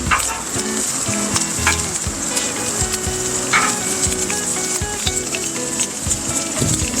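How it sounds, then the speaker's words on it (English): Bacon fries on a flat griddle with a loud, constant crackling sizzle, along with frequent clacks and scrapes as strips are moved and turned close by. Nobody speaks. "We like our bacon nice and crispy,"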